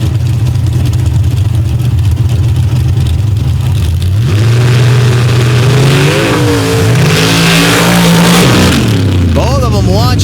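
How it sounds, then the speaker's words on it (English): Super Stock drag racing cars launching off the line at Paducah, including a little blue Chevy S10, with loud engines roaring close by, rising and falling in pitch as they pull away, under a commentator's voice. "Both of them launching hard, but a lot of bounce out of Carrer."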